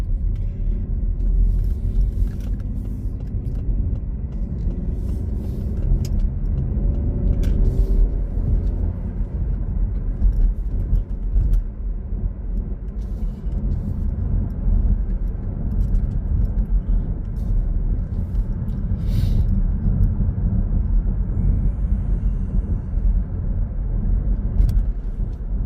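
A car drives along a road, heard from inside as a steady low engine and road rumble with faint clicks and knocks over roughly twenty-five seconds, no talk.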